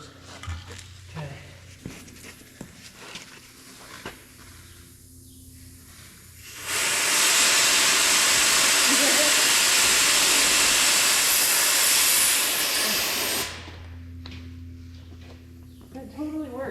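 Loud, steady rush of compressed air from an air hose blowing fish tape through a pipe, a broad hiss lasting about seven seconds alone, with people talking before and after it.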